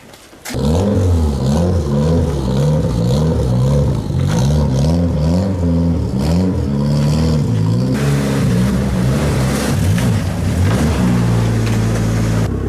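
A truck engine idles and revs while the vehicle is turned around, a loud steady motor drone with rising and falling pitch swells that continues throughout.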